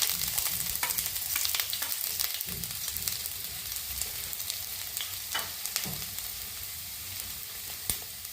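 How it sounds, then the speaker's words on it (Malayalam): Mustard seeds and chopped ginger fry in hot oil, giving a steady dense sizzle with scattered sharp crackles and pops from the seeds throughout, close and fairly loud with no talking. "എണ്ണ ചൂടാകുമ്പോൾ നമ്മൾ കടുക് ചേർത്ത് കൊടുക്കുന്നു. അതിലേക്ക് ഇഞ്ചി അരിഞ്ഞത് ചേർത്ത് കൊടുക്കുന്നു."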